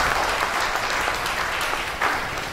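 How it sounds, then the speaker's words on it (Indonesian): A congregation applauds together during a church worship service, a steady, dense wash of clapping that fills the room for the whole stretch, with a slight swell near the end. "Ayo tepuk tangan yang meriah buat Tuhan."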